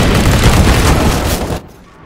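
A loud burst and roar from a flashbang grenade in Counter-Strike: Global Offensive fills the clip, then drops away abruptly to near quiet.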